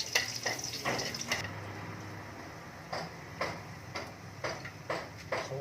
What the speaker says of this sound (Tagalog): Ilagay po natin yung ating bawang. Ayan. Tapos imikos-mikos po natin.